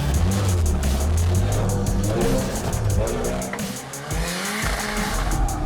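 An offroad car at a charity offroad challenge in Johor sprints across a muddy stage in third gear, its engine roaring loudly and steadily throughout with tire squeal and slithering, skidding noise, close to the listener.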